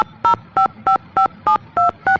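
Telephone keypad tones from a Nancy Drew mystery game: seven crisp, evenly spaced beeps dialed in steady rhythm, loud and clean with brief silences between.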